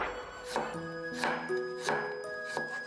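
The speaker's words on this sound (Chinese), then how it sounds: "再来一块生姜切片" A kitchen knife cuts through a piece of fresh ginger on a cutting board, four distinct sharp chops at a steady unhurried pace, close and fairly quiet.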